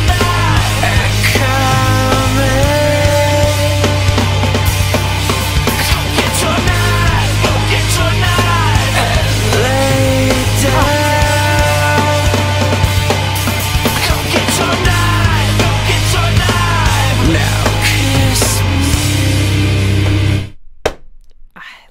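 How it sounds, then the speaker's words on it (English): The chorus of a song pounds along with driving drums, crashing cymbals and dense distorted instruments, loud and continuous before cutting off near the end. "Let's listen to the drums for this chorus"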